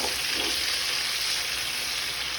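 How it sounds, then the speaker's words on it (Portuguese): Calabresa sausage and bacon sizzle in a frying pan, a loud, steady, close crackle with no talk. "Agora eu vou mexer bem e deixar fritar agora essa calabresa e esse bacon."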